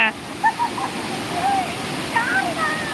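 A waterfall at Courtallam carries heavy water flow in a constant broad rush. Faint voices and brief high chirps sit on top of the steady roar.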